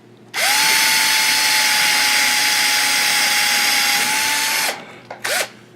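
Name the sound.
drilling a rivet hole with a number 40 drill bit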